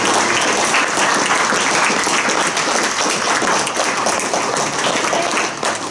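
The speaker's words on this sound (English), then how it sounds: "So let's give them applause as our thanks." A crowd at an Indigenous speakers' plenary session applauds loudly and continuously, a dense wash of clapping that holds steady for several seconds before easing slightly at the end.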